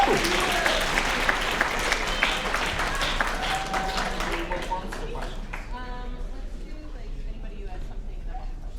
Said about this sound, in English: Let's have a huge round of applause for Katie, Maya, Denise, Maya, Isma, Kramer, and Zach.